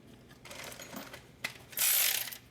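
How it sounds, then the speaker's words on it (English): A ratchet tightens wheel bearing assembly bolts on a Honda CR-V rear hub, heard as soft mechanical clicking and a short burst of rapid ratcheting near the end, close and alone. "So now we're gonna start tightening the wheel bearing assembly bolt."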